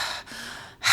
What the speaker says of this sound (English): we're moving into the conscious connected breathing